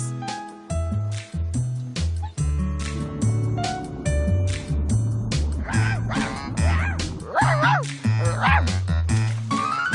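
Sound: dog barking in cartoon

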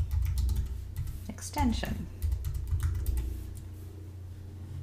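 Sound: typing on a computer keyboard

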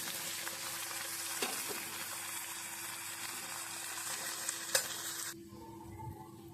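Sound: tomatoes sizzling in a pan for okra palya

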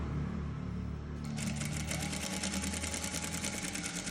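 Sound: sewing machine stitching along the neckline edge of a frock

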